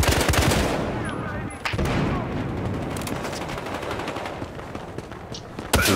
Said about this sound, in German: Von rechts snipert mich wer.